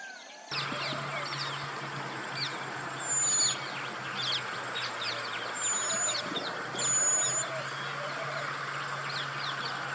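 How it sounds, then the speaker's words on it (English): Birds sing and chirp through a forest at evening in Sri Lanka, several calls scattered over a steady insect-like hum, moderately near with short bursts of louder song. "As evening came, the air was filled with birdsong,"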